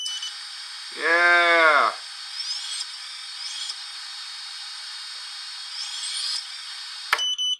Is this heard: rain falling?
no